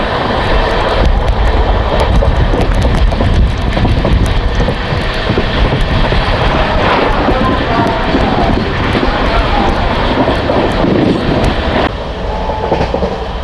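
Howrah–Kalka Netaji Express, train 12311, with new LHB coaches running at speed near Dankuni at night: a steady, loud wheel-and-rail roar with constant rumble and rattle throughout, heard from inside the train.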